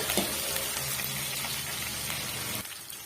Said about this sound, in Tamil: சேர்த்துட்டு நல்லா வந்து வதக்கி விட்டுடுங்க.